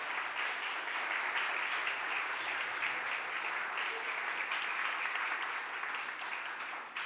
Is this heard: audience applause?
yes